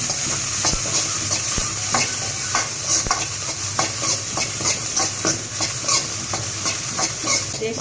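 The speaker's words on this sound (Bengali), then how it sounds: "আমি হালকা একটু ভেজে নেব।" Black cumin seeds toasting lightly in a pan make a steady bright sizzle, punctuated by regular scraping and tapping strokes of stirring, close and fairly loud, with no voices.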